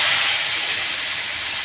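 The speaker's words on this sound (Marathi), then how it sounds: "चांगलं परतलं की याच्यात पाणी टाकायचं" Water poured into frying vegetables in a hot pan raises a loud, continuous broadband steam hiss that holds steady for its short length with no voices.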